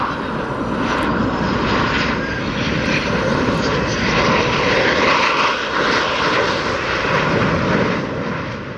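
An RCAF CF-18 fighter jet lands at Montreal airport. Its engine gives a loud, continuous roar that holds steady throughout, with faint radio beeps above it and no talk.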